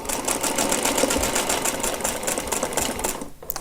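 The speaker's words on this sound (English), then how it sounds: "Now we're going to do a 1/4 inch seam." A sewing machine stitches a quarter-inch quilt seam in a steady, continuous whirring run close by, its rapid needle rhythm holding throughout before stopping abruptly near the end.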